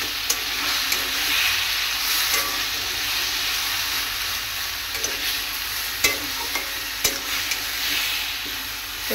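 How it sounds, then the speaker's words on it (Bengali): Spice paste sizzles and fries in a pan as it is stirred and cooked down, a steady close hiss with occasional scraping clicks from the spoon, with no voices. "এবারে মশলাটা দিয়ে ভালো করে কষিয়ে নেব"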